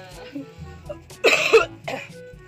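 A single close cough burst, loud and brief, during a chubby bunny challenge, amid light background talk.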